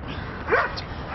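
A dog gives a single short, sharp bark, moderately close, standing out briefly above a quiet indoor background.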